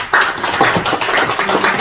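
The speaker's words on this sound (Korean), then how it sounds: "하나님 앞에 우리가 영광의 박수를 올리겠습니다" A church congregation at a Korean Sunday worship service claps together in a loud, close, steady burst that fills the whole moment.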